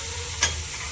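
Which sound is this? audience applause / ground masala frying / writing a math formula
ground masala frying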